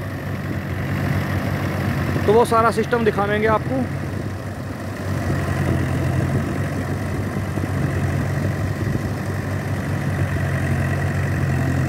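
A thirty-year-old tractor idles with a steady low rumble while a trolley is loaded with soil, someone speaking briefly over the engine near the start.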